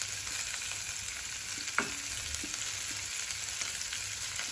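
Ginger sizzles and crackles steadily in hot oil in a pan, a soft continuous frying hiss with a few scattered pops and a brief stirring scrape.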